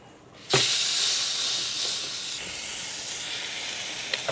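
A dry aged tomahawk steak, bathed in beef tallow, hits a very hot wood-fired Gozney Dome XL with a sudden loud hiss that settles into a sustained sear, with faint clicks near the end.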